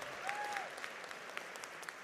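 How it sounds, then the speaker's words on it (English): Scattered audience clapping at a charity gala auction, fairly faint and distant, with individual claps popping out over a low room murmur and a brief whistle. "Can we put our hands together and give both Joe and Josh a round of applause"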